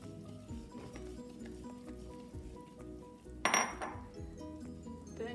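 Ebelskiver batter being mixed in a bowl, with a steady scrape and clink of utensil against dish, one louder knock partway through, close and clear with no talking.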